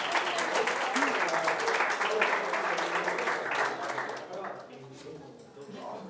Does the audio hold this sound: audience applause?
yes